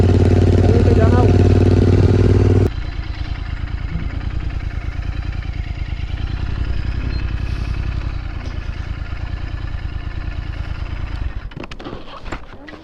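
Royal Enfield GT650 motorcycle ridden along Udaypur beach, its engine a loud rumble under an excited voice, then a steadier mid-pitched drone with clatter as the talking stops.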